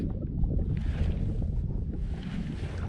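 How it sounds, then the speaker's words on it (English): An electric trolling motor drives a fishing boat in winter waters near Cat Island, a steady low hum and rumble blended with gusty wind noise, continuous and close. "I'm gonna spook him with this trolling motor"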